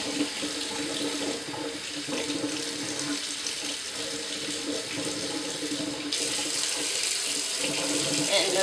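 Hot water runs steadily from a tap into a sink, a continuous broadband splash at moderate level that grows slightly louder and brighter near the end, with no talk over it.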